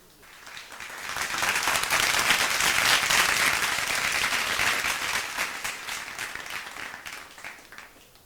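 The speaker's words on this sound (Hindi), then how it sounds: "इनके तालियां होनी चाहिए बच्चों के लिए।" Sustained applause from an audience at a Hindi-language student award ceremony honouring children, swelling steadily and then tapering off, with dense clapping throughout and no talk on top.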